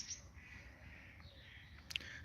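Birds call faintly in the distance over a steady background hiss, with one brief sharper chirp near the end.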